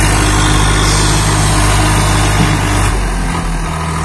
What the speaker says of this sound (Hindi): बिल्कुल लोड फ्री चल रहा है ट्रैक्टर